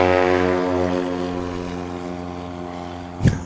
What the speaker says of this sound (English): performing safely as Brad Crawford drops the flaps and just floats into the air in that Husky.